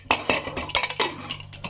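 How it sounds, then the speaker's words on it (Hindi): Metal lid set onto a pressure cooker, a quick series of close clinks and scrapes as it is fitted and settled, loud and alone without talk. "अब हम इसके ऊपर ढक्कन देंगे"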